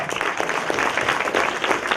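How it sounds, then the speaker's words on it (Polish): A theater audience claps steadily at a premiere in Teatr Witkacego, thick continuous applause with no voices, evenly sustained throughout. "Brawa!"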